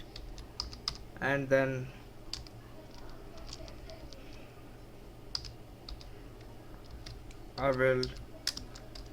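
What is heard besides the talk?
typing on a computer keyboard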